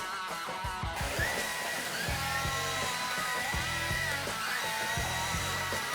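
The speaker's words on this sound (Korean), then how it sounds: "말라붙은 커피 찌든 때 로봇 청소기가 2번 왔다 갔다 하더니 결국 지워냅니다" A robot vacuum cleaner mops a dried, crusted coffee stain on a floor with its mop pad, giving a steady motor whir and hum that runs continuously and close by, with no talking.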